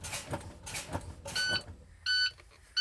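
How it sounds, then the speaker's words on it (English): A truck's low-air warning buzzer sounds in two short electronic bursts after some thumping noises of the service brake being pumped, with a third beep starting at the very end. "alarm buzzer and the lighting indicator came on to show me that"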